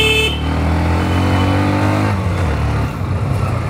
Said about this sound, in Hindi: पिकअप आप देख ही सकते हैं इस बाइक का, ट्रैफिक बहुत है उसके बावजूद बाइक के अंदर पिकअप अच्छा खासा महसूस होता है।